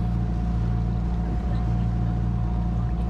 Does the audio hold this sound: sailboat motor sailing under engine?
yes